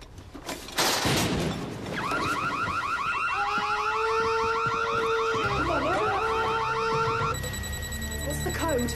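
An alarm rings loud and continuous in a building during a police raid, a repeating warbling electronic tone that fills most of the clip, with a burst of noise at the start and brief voices near the end.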